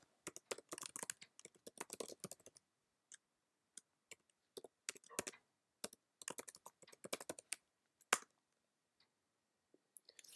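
Fingers tap out an email address on a Mac keyboard into a terminal, producing close, quiet, irregular bursts of key clicks with short pauses between clusters and no talking.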